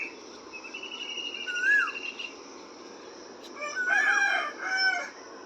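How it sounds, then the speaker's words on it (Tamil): A rooster crows once early on and again more loudly later in a village morning, over a steady background hum from a rice mill and faint bird chirps. "சேவல்,"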